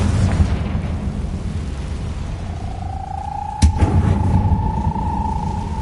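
A Confringo fire spell explodes in Hogwarts Legacy: a sudden sharp blast near the midpoint rises out of a steady low rumble, followed by a sustained tonal hum that lingers afterward.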